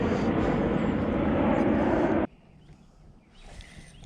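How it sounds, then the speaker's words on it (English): Loud, steady roar of a low-flying airplane passing overhead along a Nashville greenway fishing spot, filling the first two seconds before cutting off to quiet outdoor ambience with faint distant engine noise. "you gotta put up with a lot of planes flying overhead"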